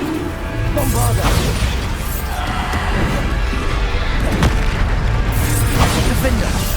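Bombarda spell blasts in the Hogwarts Legacy video game, a series of booming explosive bursts and crashes during combat, loud and close, with shouted spell incantations over the top.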